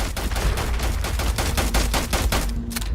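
Sustained automatic gunfire in the video game Starfield crackles in a rapid, evenly spaced stream of loud shots lasting throughout, with no talk.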